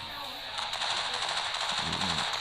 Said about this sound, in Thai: ยิงมัน ยิงมัน ยิงมัน ยิงจี้เลยนะครับ